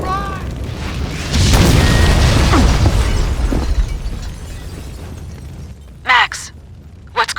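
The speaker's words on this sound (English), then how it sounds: "The building's blowing up." A building blows up in the video game Max Payne 2, a heavy booming blast with rumbling debris that slowly dies away, followed by sharp shorter impacts and brief voices.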